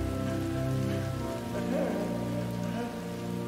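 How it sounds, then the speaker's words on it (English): Steady rain falls in a scene from the film Replicas, a continuous hiss that runs beneath a sustained, swelling musical score throughout, with no voices. "when the rain is falling on his dead family"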